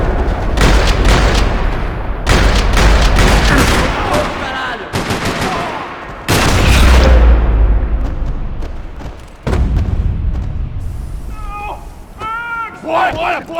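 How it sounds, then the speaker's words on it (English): Loud bursts of rapid automatic gunfire in the video game Max Payne 3 come in several waves across a parking lot, broken by short gaps, with shouting voices near the end. "Another parking lot rattling with gunfire."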